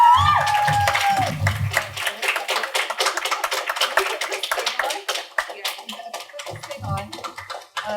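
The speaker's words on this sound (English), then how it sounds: "Give it a round of applause." Audience at a high school poetry slam applauding the winners, rapid scattered claps building into sustained applause over a low murmur of voices and cheering, a voice talking at the start.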